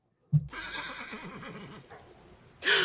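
A horse neighs in an Attack on Titan anime episode: one loud, close whinny with a wavering, descending pitch, ending in a sharp burst of other sound.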